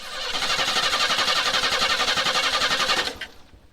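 An old Chevy truck engine that has sat unused for years cranks and catches, then runs with a rough, pulsing rumble for about three seconds before cutting out.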